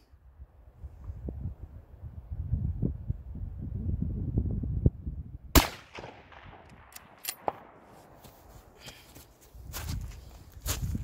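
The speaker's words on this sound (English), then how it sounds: "let's take a shot." A single sharp, loud rifle shot fired from a bipod-mounted rifle outdoors, cracking out midway after quiet rustling and wind noise, followed by fainter echoes and clicks.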